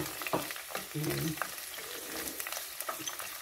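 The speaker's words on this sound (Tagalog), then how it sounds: "igisa na natin sabay ang sibuyas, kamatis. Sibuyas at bawang" Onion, tomato and garlic sauté in a pan for fish pucheco, giving a steady sizzle with a few utensil scrapes and clicks, close and fairly loud, with a faint voice briefly in the background.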